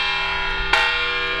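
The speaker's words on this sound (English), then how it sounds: "Governor Stitt ringing the bell at the History Center to commemorate Martin Luther King Jr. Day." A ceremonial bell rung by the governor at the Oklahoma History Center during a Martin Luther King Jr. Day ceremony: a steady, sustained ringing tone with one sharp, louder strike partway through that rings on.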